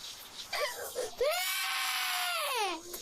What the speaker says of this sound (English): a kid is screaming like this